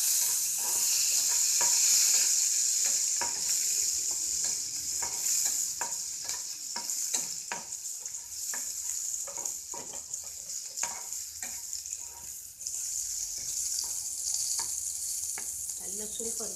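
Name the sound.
crushed garlic, cumin and chili frying in hot oil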